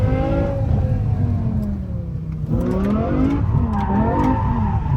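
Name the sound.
BMW M6 V10 engine revving in first gear, drifting attempt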